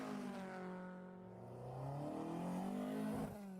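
Car engines in the racing game Forza Horizon 4 rev and climb through the gears, with a smooth rising and falling roar, fairly faint and with no voices.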